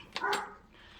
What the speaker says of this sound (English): honestly, he's done nothing but bark this morning